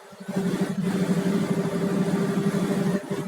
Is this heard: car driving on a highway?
yes